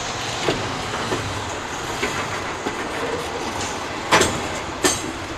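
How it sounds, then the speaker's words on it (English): A long container freight train rolls past on rails in Canada, a steady broadband rumble with occasional sharp clicks and clanks from the wagons as they pass close by. "This is long train"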